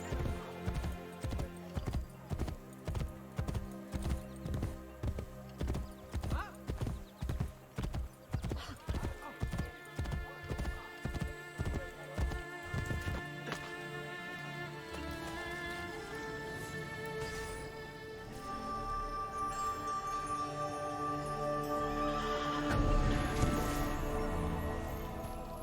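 A horse in Assassin's Creed: Brotherhood trots with rapid rhythmic clip-clop hoofbeats over a game music bed, the gait fading into ambient score, followed by a neigh near the end.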